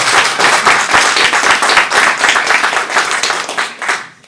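A student government meeting audience claps loudly and steadily for a few seconds, dense overlapping hand claps close by before fading toward the end.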